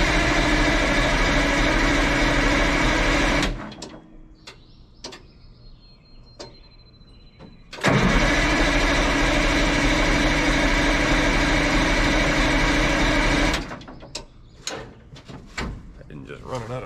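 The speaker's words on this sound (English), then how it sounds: "you really just hate to redline a cold motor like that" A cold engine on an old, long-abandoned Clark wheel loader roars near redline in two long, loud sustained bursts, separated by a quieter stretch of low idle and scattered mechanical clanks.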